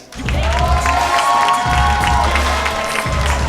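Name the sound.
comedy club audience applause and cheering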